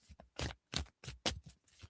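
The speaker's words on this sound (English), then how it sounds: "This deck don't want to shuffle." A tarot card deck being shuffled during a live reading: a run of short, papery riffling bursts in an uneven rhythm, close and quiet, with brief pauses between them and no talk.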